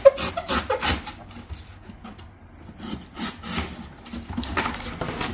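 A utility knife or blade cuts down a corrugated cardboard box, giving a string of close rasping, sawing scrapes with irregular strokes and short pauses, heard alone.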